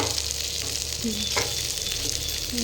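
Rava-coated prawns sizzle steadily in a pan of hot oil, a constant close crackling hiss across the whole stretch with a few faint clinks, no talking.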